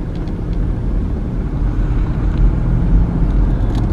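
A car drives into the downtown of a small rural Alabama town, with a steady low engine and road rumble heard from inside the cabin, constant and fairly loud throughout.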